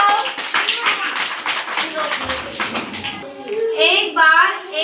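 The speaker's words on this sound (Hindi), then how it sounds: "तो सभी बच्चे ताली बजाओ।" Children clap together in a classroom storytelling session, a quick, scattered round of small hands that dies out after a few seconds, followed by young voices talking and shouting.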